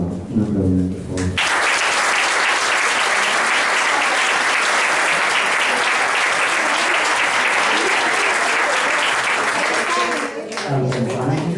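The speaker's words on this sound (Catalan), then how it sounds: "Un aplaudiment, per favor" Loud, sustained applause fills a municipal council chamber during a constituent session of the Ròtova town council, a dense roar of clapping for about nine seconds, with a speaker's voice just before and after it.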